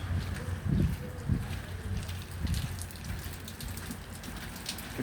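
Heavy rain pouring down outdoors in Saudi Arabia near a mosque: a dense, steady wash of falling water with occasional heavier splashes and low rumbles, fairly close and without talk.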